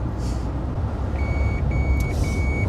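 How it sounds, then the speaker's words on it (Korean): A thin electronic lane departure warning beep repeats in short pulses inside a Renault Master van, over a loud, steady rumble of road and engine noise. "차선을 밟을 때마다 소리를 내네요."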